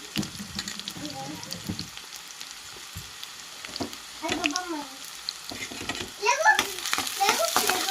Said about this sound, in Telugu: ఉల్లిపాయలు కూడా వేసేస్తున్నాను. ఇంకా అదేవిధంగా పచ్చిమిర్చి కూడా